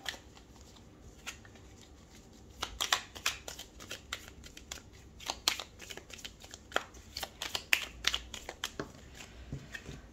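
Tarot cards are shuffled by hand, making quick, papery riffles and flicks in irregular bursts. A few cards slap down nearby, all fairly soft against a quiet room.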